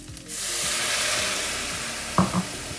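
White wine poured into a hot pan to deglaze it after frying prawns: a sudden loud, bright sizzle and steamy hiss that holds steady, with a couple of clanks of a utensil stirring near the end.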